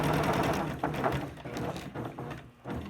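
A sewing machine back stitches the corners of a fabric face mask where elastic is sewn in, a close, steady mechanical whirring that slows and pauses briefly as the stitching reverses.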